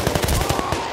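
Rapid automatic gunfire rattles in Battlefield: Bad Company, a close, loud burst of about a dozen evenly spaced shots rolling into one another with no speech.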